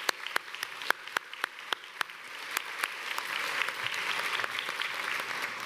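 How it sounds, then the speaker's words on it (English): Graduation convocation audience at Mohawk applauding, sharp scattered claps at first that swell into a dense, steady wave of clapping filling the hall, with no talk over it. "could you give a warm, huge round of gratitude and applause to both the Mohawk team and your family and friends"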